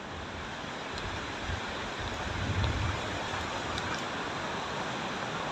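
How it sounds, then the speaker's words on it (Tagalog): Steady rain falls outdoors, a dense, even hiss at moderate level that swells slightly partway through, with no voices. "Ngayon lang at naulan."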